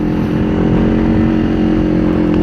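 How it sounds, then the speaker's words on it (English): Steady, loud engine drone from a 2024 Kawasaki Ninja 500 motorcycle, an aggressive, dirt-bike-like tone holding a constant idle or low rev throughout, with no talking. "It sounds aggressive. It sounds kind of like a dirt bike in a way,"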